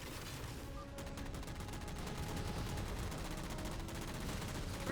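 Rapid bursts of automatic gunfire from Halo 4 as jammers are shot down, a dense continuous crackle of shots with game ambience underneath, fairly loud and steady throughout.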